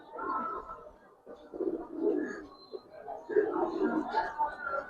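Silver pigeons coo softly and repeatedly nearby, low throaty calls rising and falling in short bursts, with people talking nearby at times.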